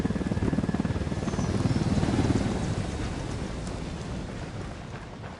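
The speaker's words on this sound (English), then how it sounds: "Chopper here and the rebels will pick it up." A helicopter in the Ghost Recon Wildlands video game thrums steadily with a rapid rotor chop and broad wash of noise, swelling slightly then holding level, with no talk over it.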